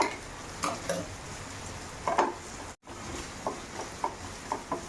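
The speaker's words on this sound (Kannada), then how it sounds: "ಈ ಹಾಗೆ ಈರುಳ್ಳಿನ ಸ್ವಲ್ಪ ಫ್ರೈ ಮಾಡೋಣ" Onions frying in a pan for a chutney, a quiet sizzle broken by intermittent scrapes and clinks of a spoon against the pan, with a brief dropout midway.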